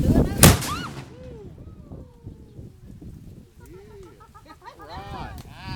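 A historic black-powder cannon at the Fountain of Youth in St. Augustine, Florida, fires a 2-ounce gunpowder charge. One sharp, loud boom rings out, followed by crowd chatter and birdsong in the open air.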